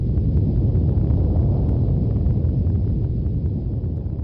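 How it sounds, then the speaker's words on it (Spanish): A loud, sustained explosion rumbles for several seconds as a sound effect in a horror tale set at a school, a dense, low roar that shakes the window glass and stays heavy from start to finish. "se escuchó una fuerte explosión que cimbró los vidrios de las ventanas de la escuela"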